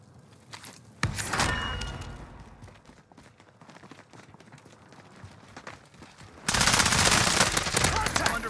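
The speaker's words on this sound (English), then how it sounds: "I'm under fire!" Rapid bursts of gunfire in a video game, loud bursts near the start and again near the end with scattered shots and footsteps between, no talk.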